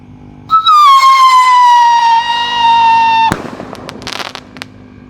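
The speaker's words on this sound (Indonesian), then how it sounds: "Roket Roman candle siap meluncur." A large Roman candle rocket firework launches with a loud rising-then-falling whistle lasting a few seconds, ending in a sharp bang followed by scattered crackling pops nearby.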